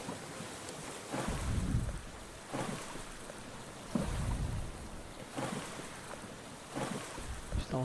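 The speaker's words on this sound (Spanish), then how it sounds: "Será por las olas a lo mejor que nos echan hacia afuera." Sea waves slapping against a small boat at sea, heard as a steady wash of water and wind with low, rhythmic thumps of swells roughly every one to two seconds, fairly soft and with no talking.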